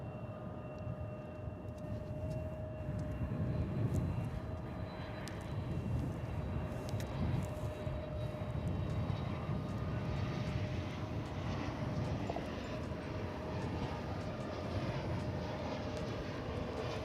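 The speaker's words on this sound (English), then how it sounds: "That's American Flight 3345 going to Houston." An American Airlines jet airliner, Flight 3345 bound for Houston, roars steadily and without letup at Dallas/Fort Worth Airport, a broad continuous engine rush that holds its loudness throughout.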